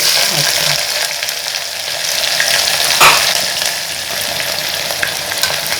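Onions and curry leaves fry loudly in a pan, giving a steady, close sizzle with stirring scrapes throughout and one brief clunk midway.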